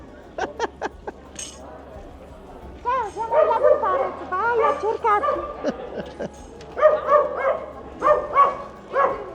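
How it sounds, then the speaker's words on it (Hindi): Dogs bark on a street in Venice during the carnival, with a few sharp barks at first, then yelps and whimpering cries mixed with nearby voices and a faint clink. "कुत्ते भौंक रहे हैं"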